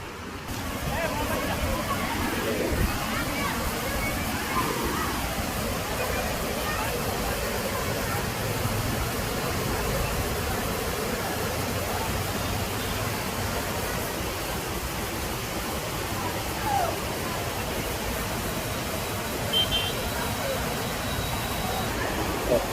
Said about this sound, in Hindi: मंदसौर का एक बेहतरीन पर्यटन स्थल तिला तालाब का झरना जो आपको बुला रहा है